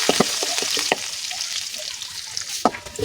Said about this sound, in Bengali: আর বাগারের জন্য রসুন ভাজা হয়ে গেছে